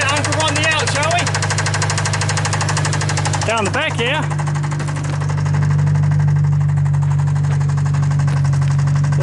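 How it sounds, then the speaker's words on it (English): A free car with a damaged front end idles loudly and close, its engine knocking steadily throughout, while someone speaks briefly over it near the start. "if it wasn't for the knocking of the engine, that would actually sound pretty sick"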